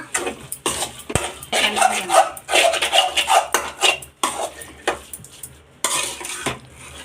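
Chicken keema frying in oil, a spatula scraping and knocking the pan in busy bursts over a soft sizzle, close up, with no one speaking.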